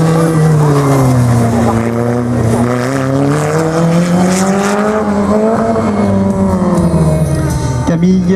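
A Peugeot-engined slalom race car on Pirelli tyres at the 2013 Beaupréau slalom, its engine loud and close, revving continuously with rising and falling pitch as it works through the course.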